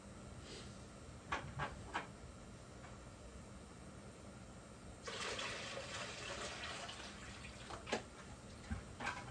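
Water is poured into a 10 gallon aquarium, a soft splashing gush in the middle with faint drips and trickles before and after, quiet and close.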